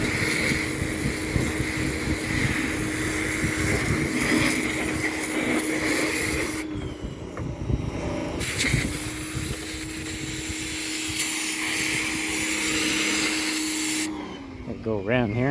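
A pressure washer blasts water over a John Deere S140 22 HP lawn tractor, its steady loud motor drone and hissing spray running continuously with brief pauses, while someone talks over it.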